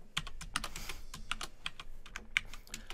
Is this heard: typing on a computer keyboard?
yes